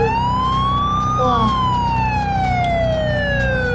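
A video-game unmarked police patrol car siren wails loud and close, its tone sweeping up and then sliding back down over a low engine hum.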